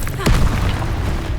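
A spell cast in Hogwarts Legacy lands as a single deep booming burst, near and loud, that rings out over a continuing rumbling game bed.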